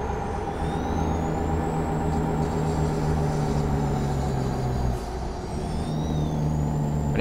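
A heavy truck in the American Truck Simulator game brakes near Sonoita with a hiss of air brakes over a steady low engine and road drone, continuous and fairly loud with a brief dip near the end.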